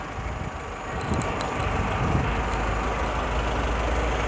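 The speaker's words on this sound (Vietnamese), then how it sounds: "Máy đang nổ đây quý anh chị và các bạn ạ." A Mazda 323 with a 1.6-litre engine idles steadily close by, a continuous low rumble with faint ticking near the start and no talk over it.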